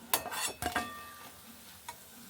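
Soybean kofta balls are lifted one at a time from hot frying oil, with a few metallic scrapes and clinks of a utensil against the pan over a soft sizzle. Nobody speaks.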